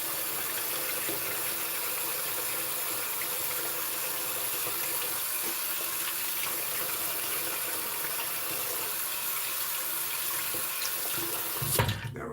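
Tap water runs steadily into a sink for rinsing during a shave, a constant close splashing stream lasting the whole stretch with a brief louder bump near the end and no talking.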